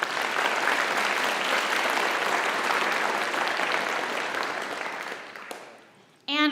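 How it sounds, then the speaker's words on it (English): Audience applause at a May school community all-star awards ceremony for a student, a full, steady wash of clapping that fades out near the end before a voice starts speaking. "Round of applause for Abby"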